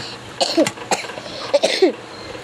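A few sharp coughs close to the mic, two quick bursts followed by two more after a short pause, in an otherwise quiet room.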